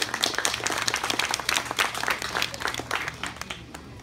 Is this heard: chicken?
no